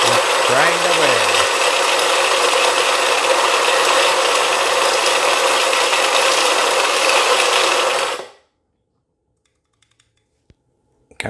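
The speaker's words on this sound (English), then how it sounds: "Let's grind away." An Iberital MC2 burr grinder grinds espresso coffee into a portafilter, a loud steady whirring drone close up that runs for about eight seconds and then cuts off into silence.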